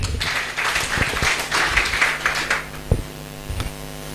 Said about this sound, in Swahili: Tuongezee waziri makofi.